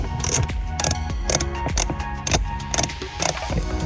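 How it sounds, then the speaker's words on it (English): Quick, sharp ratchet clicks from a ratchet with a Phillips bit loosening screws on a Toyota HiLux, coming in close, rhythmic bursts of several clicks each. "you're going to need a Phillips head on the ratchet like this"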